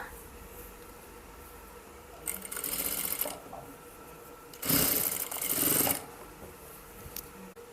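Sewing machine stitching the drawstring casing of a salwar: two bursts of whirring stitching, about a second and about one and a half seconds long, over a quiet room hum, no speech.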